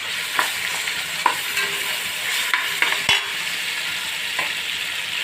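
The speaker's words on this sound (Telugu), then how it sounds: "అల్లం వెల్లుల్లి పేస్ట్ వేస్తున్నాను నేను" Ginger garlic paste frying in a hot pan for chicken dum biryani, a steady close sizzle broken by scattered scrapes and clinks of a spoon stirring, with no voices.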